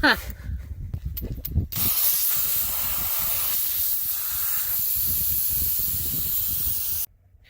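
Air hisses steadily out of a tire valve while airing down an off-road vehicle's tire on a desert dirt road in Death Valley, a loud continuous rush lasting several seconds after a few brief clicks, then stopping abruptly.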